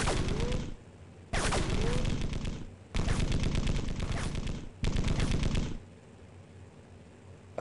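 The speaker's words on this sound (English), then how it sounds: "It would take a really good gunner to hit with a machine gun at this distance." Machine gun fire in the Darkwind: War on Wheels vehicle combat game comes in four loud, sustained bursts of rapid shots separated by short pauses, with softer ambient noise between them.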